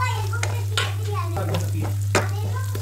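Crushed garlic sizzles and spatters in hot oil for a tadka, with bursts of frying crackle and stirring over a steady low hum throughout.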